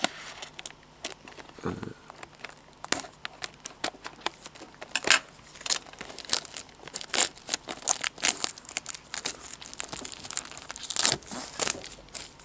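Plastic wrapping on a Pokémon booster box crinkles and crackles close up with irregular scissor snips and tearing sounds, busy handling noise continuing throughout with no talking.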